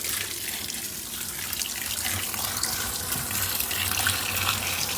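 A washing machine on a heavy duty cycle with extra rinse, extra high spin, heavy soil and water plus settings fills with water, a steady rushing gush running continuously and fairly close, with no voices.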